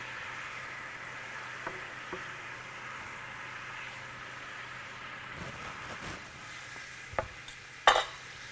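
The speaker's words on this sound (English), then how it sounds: "Just going to stir that in." Sage and sofrito stirred into a pan with vermouth, a faint low sizzle with occasional light scrapes and a couple of sharper utensil clinks toward the end, quiet and without talk.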